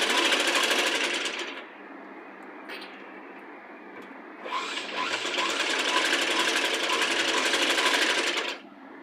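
A sewing machine runs a double stitch along the shoulder seam of a child's Punjabi dress top: two loud, steady whirring runs, one short and one longer, with a brief quieter pause between them.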